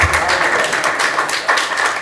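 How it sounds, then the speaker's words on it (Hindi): An audience at a Hindi poetry recital in a university hall breaks into dense, continuous applause that stays loud and steady throughout. "मैं तो ताली सुनने के लिए सुना रहा हूं"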